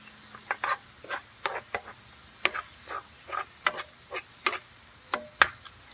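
Salisbury steak sauce with Worcestershire reducing in a pan, with scattered soft ticks and scrapes of stirring over a faint steady simmer.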